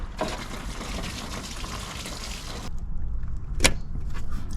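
Coolant draining from BMW E90 radiator hoses, a steady splashing gush that runs for a few seconds, then thins to a trickle with a single sharp splash near the end.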